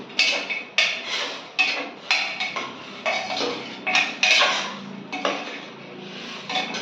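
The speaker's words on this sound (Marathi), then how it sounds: "चाकूने येत नाही मला तर इडकीने कापते" Mutton is chopped on an idki blade rather than with a knife, producing a close series of sharp, irregular chopping strikes, each followed by a short rattle, with no talk.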